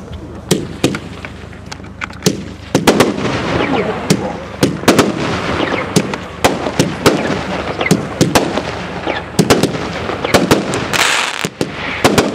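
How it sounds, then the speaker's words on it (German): A 30 mm shocktube firework with four different effects goes off at a fireworks show, sharp loud bangs and crackling bursts popping irregularly over a background of crowd noise and distant voices. "Nummer 7 kommt jetzt, Shocktube, sind 4 verschiedene Effekte,"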